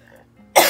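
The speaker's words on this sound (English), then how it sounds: "I feel like I have to just like clear my throat" A single sharp throat clearing, close and loud, bursts out after a moment of near silence and lingers briefly.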